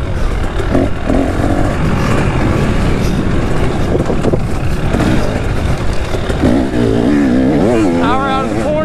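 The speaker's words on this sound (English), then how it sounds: "Power out of the corner, the 24 KTM 300 XC." A 2024 KTM 300 XC two-stroke dirt bike accelerates hard out of a corner on a wooded trail, its loud, close engine revving and rising in pitch amid heavy wind buffeting.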